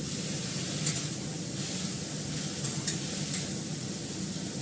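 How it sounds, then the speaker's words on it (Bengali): Pumpkin pieces frying lightly in a pan give a steady, soft sizzle, with a few brief clinks of stirring over a constant hiss. "কুমড়োটা একটু হালকা করে ভেজে নিলাম"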